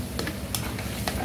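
Chicken chilli basil stir fry being stirred in a hot pan, with light scraping taps of the utensil at an uneven rhythm over a steady sizzle.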